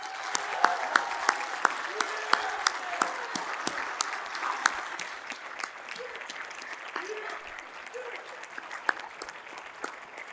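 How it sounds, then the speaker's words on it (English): An audience at a 2021 Cushing Academy commencement claps in sustained, even applause that fills the space, loud and dense with sharp individual claps standing out, gradually thinning toward the end. "Let's give this group another round of applause."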